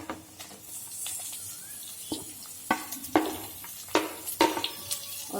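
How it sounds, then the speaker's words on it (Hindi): Onions sizzle softly in a pan with garlic and green chillies for street-style veg chowmein, a low steady hiss broken by scattered clinks and scrapes of a spatula that grow sharper toward the end. "और प्याज को हम हल्का सा भून लेंगे"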